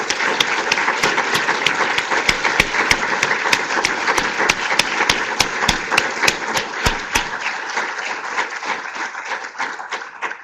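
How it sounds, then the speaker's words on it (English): An audience applauds at the 2016 NESF award ceremony for the Wargo Award, a sustained burst of clapping at close range that holds steady for several seconds before thinning and fading toward the end. "So if we could have a round of applause."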